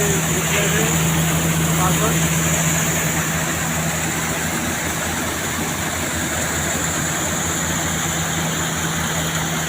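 A tractor-driven thresher extracts castor beans with a loud, unbroken engine drone and a constant mechanical hum throughout, close by.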